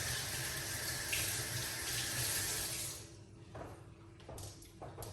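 A cucumber is washed under a kitchen tap, with water gushing strongly for about three seconds, then easing to softer splashing and a few drips close by.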